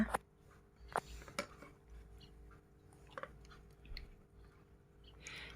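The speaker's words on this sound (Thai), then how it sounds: "เคี้ยวด้วยนะคะเคี้ยวด้วยนะคะ" A toddler chewing pasta, with faint soft wet mouth and squishy chewing sounds and a few small clicks in a quiet room.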